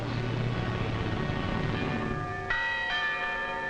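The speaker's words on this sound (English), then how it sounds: "Once more, the people of Britain heard their church bells ring." Church bells in wartime Britain ring out with sustained, overlapping tones, a fresh strike entering partway through, over a low rumbling background.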